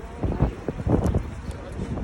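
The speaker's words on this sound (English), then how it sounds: "Oh, it's windy." Gusty outdoor wind buffets the microphone on a street in Toronto, coming in low rumbling bursts that rise and fall over a couple of seconds.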